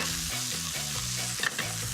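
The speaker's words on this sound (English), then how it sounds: "There's so much more flavour in spinach when you saute it" Spinach tossed over pine nuts in a hot pan, hissing and sizzling steadily close up while a utensil stirs and scrapes in a regular rhythm, with no talking.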